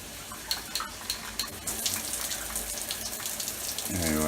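A shower head sprays water in an RV trailer bathroom, a continuous close hiss with a few sputtering spurts at the start before the flow steadies.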